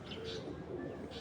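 A racing pigeon, a deep-eyed hen, coos softly up close in one brief, low, continuous murmur.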